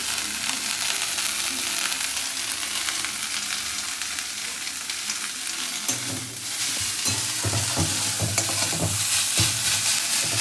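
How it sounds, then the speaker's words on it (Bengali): Mustard flowers fry in a pan with salt and turmeric, giving a steady close sizzle with scraping stirs that grow busier and louder in the second half. "সর্ষে ফুলটাকে কিন্তু খুব ভালো করে ভেজে নিতে হবে"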